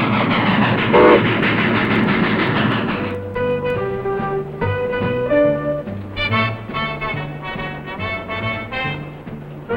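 A train rumbles loudly past, then its horn blows several long, sustained blasts over the steady rolling of the wheels.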